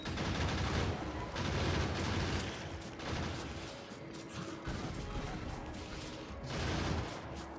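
Defensive gun turrets in Factorio fire dense bursts of automatic gunfire, loud and continuous with brief lulls, close up and crackling throughout.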